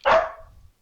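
A single sharp dog bark rings out close and loud, followed by a brief low rumbling tail, with no speech over it.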